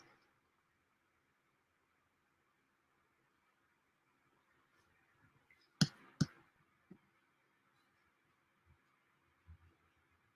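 Computer mouse clicks, a couple of sharp close clicks followed by a few fainter taps over a quiet background hum.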